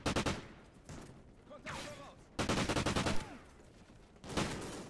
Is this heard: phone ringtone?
no